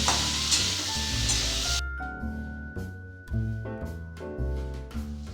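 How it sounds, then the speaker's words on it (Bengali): Cut potatoes fry in hot oil over a high flame, a loud, close sizzle that is joined by stirring scrapes and then gives way to a quieter crackle. "আলুগুলো তেলের সাথে ভালোভাবে ভেজে নেব একটু 2 থেকে 3 মিনিট ধরে।"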